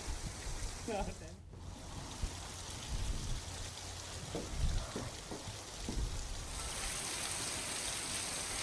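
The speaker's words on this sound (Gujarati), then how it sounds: "આજે પણ ગાજવીજ સાથે વરસાદ વરસ્યો" Heavy rain pours down steadily in a broad hiss during a thunderstorm, with a few brief louder bursts partway through.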